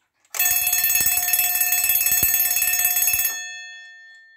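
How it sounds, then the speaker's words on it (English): A mechanical alarm clock bell rings loudly and rapidly for about three seconds, the clapper rattling continuously, then cuts off and fades. "So what you just heard was a full alarm."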